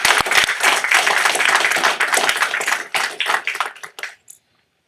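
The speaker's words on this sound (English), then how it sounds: "let's give her another round of applause" Applause from the audience at a Terrebonne Parish regular council meeting, a steady burst of clapping lasting about four seconds, fading to silence at the end.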